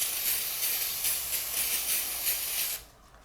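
Electrical contact cleaner sprays from an aerosol can in a continuous hiss with slight pulsing bursts, close and moderately loud, before it stops abruptly near the end.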